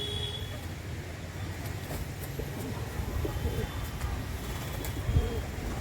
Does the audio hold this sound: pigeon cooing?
yes